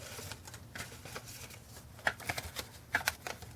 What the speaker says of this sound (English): I usually put 7 cards behind each tab